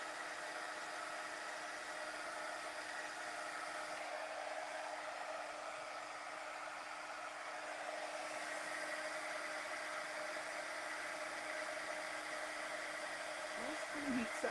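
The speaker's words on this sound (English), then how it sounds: "Heat setting it. I don't know if you guys can see that melting in there." Heat gun blowing steadily while heat-setting embossing powder on a handmade card, a continuous close, even whoosh running the whole time with a faint rustle near the end.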